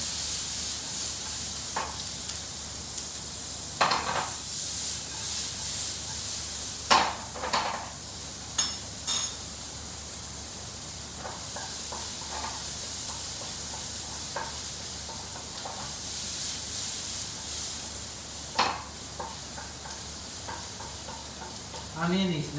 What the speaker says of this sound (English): I add the chopped onion. Fragrant it a little bit.